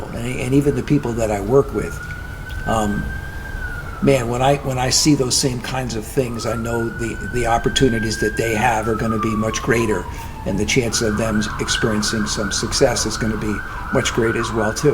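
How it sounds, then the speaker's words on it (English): A wailing ambulance siren passes through the city, rising and falling in long sweeps and growing louder near the end, heard beneath steady conversational talk. "And I hope that ambulance is not coming for you."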